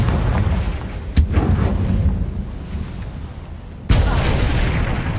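Booming blasts from the Confringo fire spell in the Hogwarts Legacy video game, two sharp explosive hits over steady rumbling combat noise.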